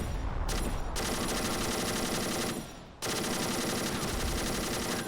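A tank fires its weapon in the video game AMOW, long loud bursts of rapid automatic gunfire close up, with a brief pause before the firing resumes.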